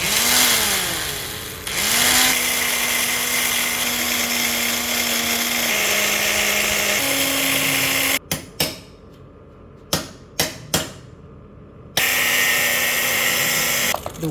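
A power tool cuts into the metal rear chassis of a GTR150 motorcycle with a loud, sustained whine whose pitch steps up and down, then stops and restarts in short bursts before a final long run.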